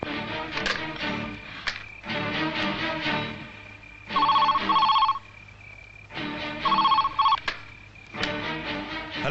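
A telephone rings in a 2000 Bollywood horror thriller film scene. Two clear bursts of warbling rings stand out over a busy background score.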